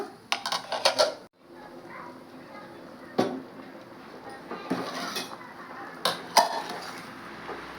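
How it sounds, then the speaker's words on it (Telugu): A metal lid settles onto a cooking pot of boiling beetroot with a few quick clattering knocks, followed by a quieter thump and scattered clinks over a low kitchen background. "బాగా మూత పెడుతున్నాను."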